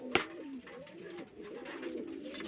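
Pigeons in a home loft, soft close coos repeating in a rolling pattern, with one sharp knock near the start and a faint voice in the background.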